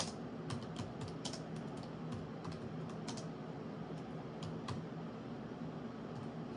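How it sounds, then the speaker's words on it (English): Fingers type on a computer keyboard in a quiet room, quick irregular bursts of light clicks over a faint steady hum. "I'm going to type out right now."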